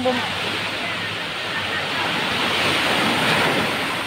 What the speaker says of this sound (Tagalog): babalik na yung alon